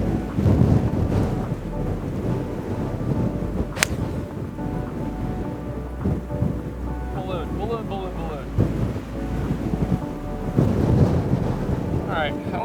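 Wind gusting across an open golf course, a continuous low rumbling buffet on the microphone with occasional stronger swells and a faint distant bird call, while someone talks over it.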